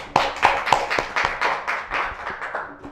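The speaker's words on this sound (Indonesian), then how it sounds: "Tepuk tangan buat Bu Eli." A small audience at an Indonesian election-supervisory agency gathering claps for a speaker: a handful of distinct, rhythmic hand claps, fairly close and moderately quiet, gradually fading over a few seconds.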